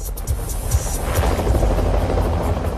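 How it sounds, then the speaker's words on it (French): Police helicopter hovering over a plane crash rescue scene, its rotor producing a steady, loud thudding whoosh that stays close and constant throughout, with no talk. "un hélicoptère de la police, Eagle One, est déjà sur place"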